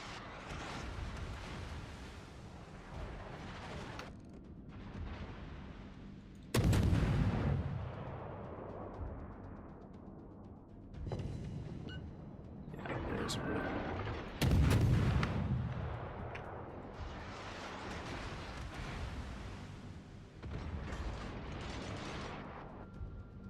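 Naval gun turrets fire salvos in the World of Warships game: two heavy, booming blasts several seconds apart, each rolling into a long rumbling decay over steady ambient battle noise.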